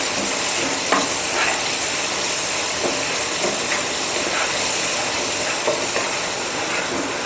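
Masala paste with tomato, onion, ginger, garlic and coconut frying in oil for a drumstick curry, a steady close sizzle and hiss with repeated scraping and stirring strokes at an irregular rhythm.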